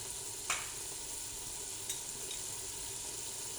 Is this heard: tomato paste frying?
yes